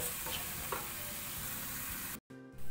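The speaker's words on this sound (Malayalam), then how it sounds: "വഴറ്റാൻ വെച്ച സവാളയും ചെറിയ ഉള്ളിയും നന്നായി വഴന്നു വന്നിട്ടുണ്ട്." Onions and shallots frying in a pan for a Kerala beef curry, giving a steady, dense sizzle that carries on evenly before cutting out briefly near the end, no voices.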